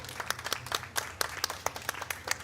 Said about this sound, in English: I would like to ask you for a round of applause for our speakers